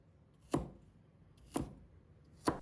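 A knife chops lean pork into small pieces on a cutting board: three sharp, separate chops land about a second apart against a quiet background.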